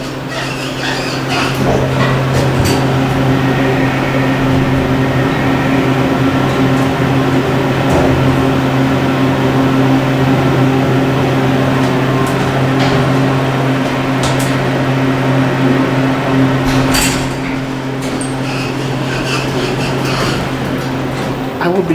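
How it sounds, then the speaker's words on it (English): A hotel elevator at a Quality Inn in Bristol, Virginia, hums with a steady low mechanical drone and close tonal whine, with faint clicks and knocks scattered over the ride and a slight drop near the end. "I think everyone remembers this elevator."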